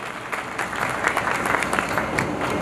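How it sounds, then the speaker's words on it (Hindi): Applause from an audience at an institute inauguration ceremony, a steady wash of many hands clapping, fairly close and continuous for its whole length. "तालियां इनके लिए Dayanand."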